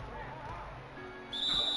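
A referee's whistle in a basketball video game blows for a foul, a single bright, sustained tone that starts partway through over low crowd and arena background.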